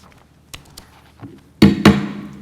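A wooden gavel knocks at a school board of education meeting, with a few light taps followed by two loud, close, sharp raps that ring briefly in the room.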